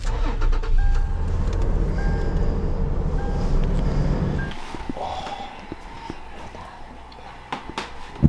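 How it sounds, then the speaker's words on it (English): Car engine cranking and starting outdoors in snow at a backcountry ski outing, a loud rumbling churn for several seconds that settles to a quieter idle, with faint voices nearby. "Start the car."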